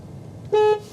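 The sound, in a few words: VW ID.3 car horn honking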